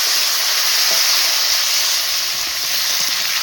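Vegetables, including cauliflower, hit hot mustard oil seasoned with bay leaf and whole cumin and fry with a loud, continuous hissing sizzle that stays steady and close.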